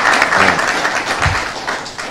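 An audience claps enthusiastically at a public gathering in Conakry, Guinea, a continuous, fairly loud burst of many hands applauding that runs throughout.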